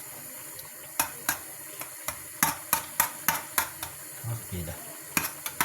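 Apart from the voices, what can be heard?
stirring garlic yogurt sauce with salt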